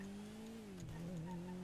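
Fast car engine in GTA RAGE:MP, a steady, faint droning tone that dips briefly and then climbs again, with light tire and road noise under it.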